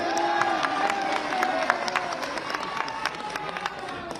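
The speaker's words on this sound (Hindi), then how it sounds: "मिला हो तो ताली बजाइएगा" A crowd at a political rally in Pilibhit claps and cheers steadily throughout, dense and moderately loud, with a raised voice carrying over the start.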